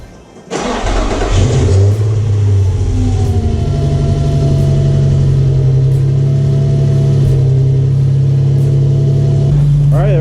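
An Infiniti G35 engine, freshly reassembled after timing work with the coolant bleeder valve open, cranks briefly, catches and settles into a loud, steady idle close by.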